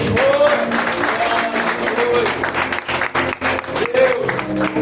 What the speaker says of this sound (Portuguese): Aplauda ele nesta noite.